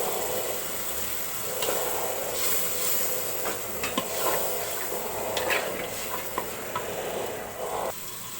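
Green chillies and onions frying in a pan for beef curry, a continuous sizzle with scattered scraping stirs and clicks of a spoon against the pan, close and moderately loud.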